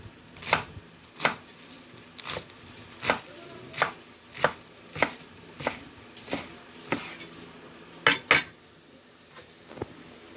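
A knife chops vegetables on a cutting board for a sardines-with-pechay dish, about a dozen crisp, close strikes in a slow, even rhythm, with a quick double chop near the end and no talking.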